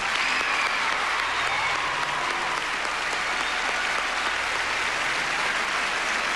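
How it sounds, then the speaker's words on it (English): A large audience at the 35th Annual Grammy Awards in 1993 applauds Michael Jackson, a loud, dense, unbroken roar of clapping that holds steady throughout. "let's give him another big round of applause for that"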